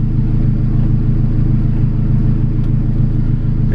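Turbocharged K20 engine in an Acura RSX Type S idling steadily, a loud, close, even low rumble with a constant pulsing beat and no other sounds over the whole stretch.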